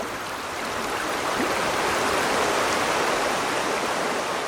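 Fast river rapids rush in a loud, steady roar of churning white water that holds at full strength with no breaks and no voices.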